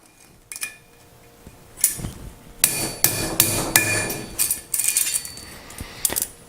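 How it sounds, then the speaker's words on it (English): A hammer strikes metal repeatedly to knock out a pin while building a vacuum crevice tool: sharp, ringing blows in an irregular rhythm, close by and fairly loud, with no talking. "Just smack that with the hammer and that'll come right out of there."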